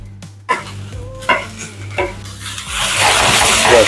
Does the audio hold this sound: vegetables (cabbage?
yes